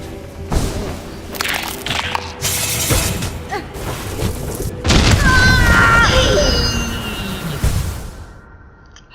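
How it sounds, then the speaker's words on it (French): Loud explosion in the video game Hollow Knight Silksong during a mechanical choir boss fight: a sharp shattering crash with a deep boom, followed by clattering debris and ringing metallic tones that fade out. "L'impact de l'explosion"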